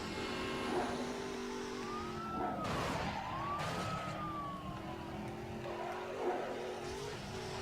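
A car engine revs and shifts through a video game race, with pitch sweeping up and down over steady game music and effects and a siren-like tone rising in the mix; no one speaks.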